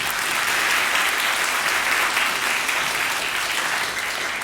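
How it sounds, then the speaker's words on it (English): Audience applause at a Shia Voice 2023 recitation event, a dense, steady burst of many hands clapping at close range, sustained evenly for several seconds with no talk over it. "If you are, give him a round of applause."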